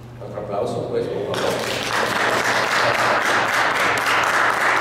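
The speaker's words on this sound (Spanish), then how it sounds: "Otro aplauso, pues, por favor." A crowd bursts into loud, sustained applause that swells after a brief moment and continues steadily, dense and close.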